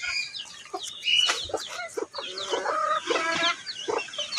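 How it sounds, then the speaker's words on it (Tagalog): Chickens cluck busily in short, overlapping bursts close by, a lively chatter of several birds with no talking. "Nandiyan pala yung puting manok ko."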